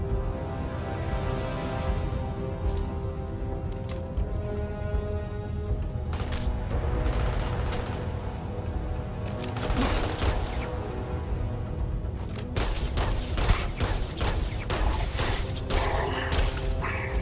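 Gunfire in a space-themed shooter video game, sharp shots and thumps scattered over a steady mechanical hum, with denser bursts of firing in the second half.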